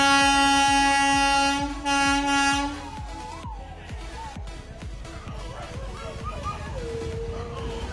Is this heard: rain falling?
no